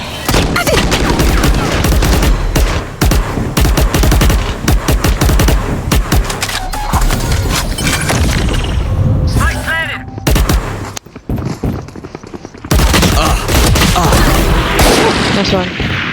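Rapid weapon spray in the tactical shooter Valorant, loud dense bursts of gunfire with short pauses and a brief lull in the middle, with voices talking in between.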